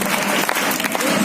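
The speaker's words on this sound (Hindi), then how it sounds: "एक बार अंकल के लिए तालियां हो जाए।" An audience claps for an uncle during a lively Hindi motivational speech, a dense, steady burst of applause lasting only a moment, with a few voices mixed in.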